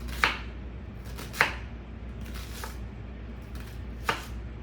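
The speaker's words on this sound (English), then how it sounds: "So slice up the onions." Onions are sliced on a cutting board for crockpot pulled pork, with three or four crisp knife chops spaced a second or more apart over a low, steady background hum.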